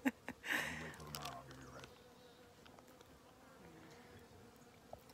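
Insects buzzing close by, with a louder burst early on that fades into a steady low hum of wings for the rest of the clip.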